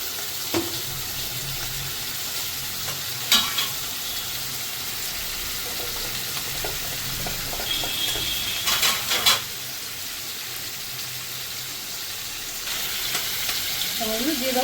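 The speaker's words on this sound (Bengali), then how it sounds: "এটাকে চিংড়ি মাছটা একটু ভালো করে ভেজে নিই" Prawns seasoned with salt and turmeric fry in a kadai with a constant soft sizzle and hiss. Occasional louder scrapes and clatters of stirring come through, close by, with no voices.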